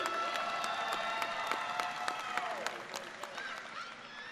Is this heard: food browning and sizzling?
no